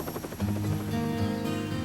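Helicopter in flight over Maui, a steady, loud rotor thump with a fast rhythmic beat and a continuous engine whine, close and alone.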